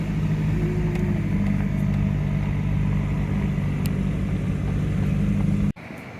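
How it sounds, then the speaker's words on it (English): From inside a moving truck, a steady low engine drone and road rumble hold constant for several seconds before cutting off abruptly near the end. "Okay, so we're in the car with the truck with Brent."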